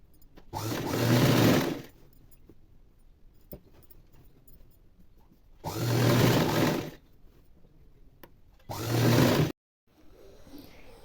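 Sewing machine stitching the hem of a saree petticoat, three bursts of fast, steady motor whirring and needle clatter, close and loud, separated by quiet pauses with faint handling clicks.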